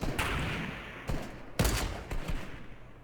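Gunfire in the Fortnite battle royale game, with several sharp shots and short bursts cracking at irregular intervals over about three seconds, loud and close, with no voices.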